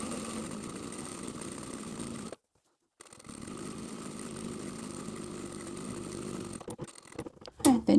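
Sewing machine running down long fabric edges, a steady droning motor hum that pauses briefly, resumes, then ends with a few stuttering bursts and clicks, close and moderately loud.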